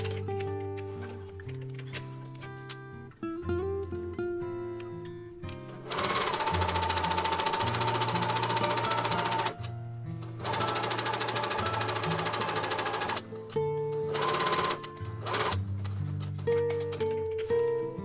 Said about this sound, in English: Make gathering stitches on the sleeve edge where the cuff will go, one at 7mm and one at 5mm from the edge.